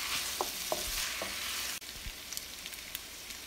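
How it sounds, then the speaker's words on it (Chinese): A big spoonful of sacha sauce stir-fried in a hot wok, with loud steady sizzling and sharp spoon scrapes, then the hiss drops abruptly to a quieter crackle with light clicks. "在锅中加入一大勺的沙茶酱， 继续翻炒。"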